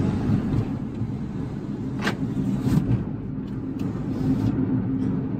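Loud, steady tire roar and low rumble heard from inside a moving Kia Morning with over 300,000 km, continuous throughout with no talking.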